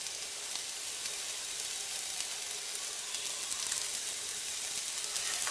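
Gherkins and coconut frying in a pan: steady, close sizzling and hissing throughout with a bright, even texture and no talking.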